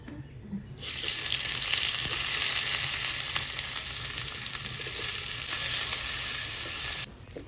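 Mutton drops into hot oil, setting off a sudden loud, hissing sizzle that holds steady and close for several seconds before stopping abruptly near the end.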